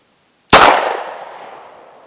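A single sharp gunshot at an outdoor shooting range, fired through a ProChrono DLX chronograph, cracks loudly and close, then rings out in a long fading echo with no talking.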